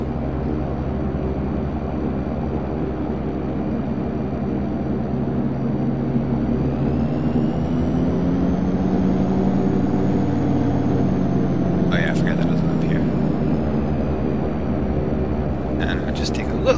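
Twin turboprop engines of a DHC-6 Twin Otter drone steadily at idle in a flight simulator, a continuous low hum with a rising whine, joined by brief clicks near the end.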